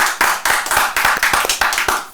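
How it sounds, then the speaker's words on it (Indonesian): Quick, rhythmic hand clapping from a small group, a steady patter of claps lasting a couple of seconds. "Tepuk tangan dong semuanya buat Roni Pangolian."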